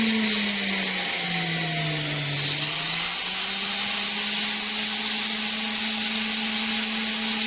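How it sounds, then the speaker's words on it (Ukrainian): A powerful electric power tool, probably a drill, runs off an inverter with a loud, steady whine and a sustained motor hum that dips briefly in pitch before settling, continuous and close throughout. "І тепер включаємо електродріз."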